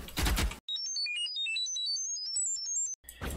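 Killjoy's alarm in the video game Valorant: a rapid, bright electronic beeping run of high tones lasting a couple of seconds, framed by short bursts of louder game noise at each end.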